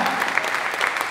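Brief stretch of audience applause at a jazz concert in Oslo, dense, even clapping from a crowd heard close and fairly loud.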